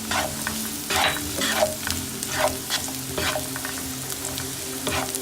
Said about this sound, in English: mixing everything well on low flame only